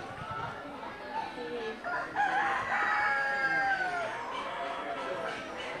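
Phoenix chickens at a poultry fanciers show in Delaware crow and cluck amid a busy hall, the drawn-out crows rising and falling at moderate distance over background chatter and general crowd noise.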